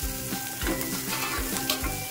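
Vegetables for bread pizza sautéing in a pan, giving a steady close sizzle with soft stirring scrapes and no talking throughout.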